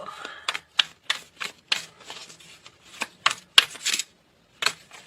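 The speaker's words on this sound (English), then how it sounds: "I know the shuffling can be annoying sometimes" Tarot cards are shuffled by hand, producing crisp, irregular riffling snaps and clicks in short bursts with small gaps, close and fairly loud, with no voices over them.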